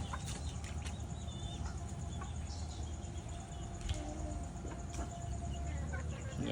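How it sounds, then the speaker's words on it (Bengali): Native desi chickens and roosters kept on a rooftop farm, scattered close clucks over a steady insect-like buzz, with faint voices in the background. "দেশি মোরগ মুরগি"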